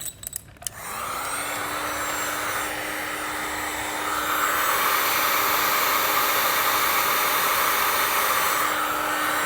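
A heat gun shrinks heat shrink tubing over RV light wires, a steady loud blowing hiss with a motor whine that starts after a brief click and runs continuously, strengthening midway.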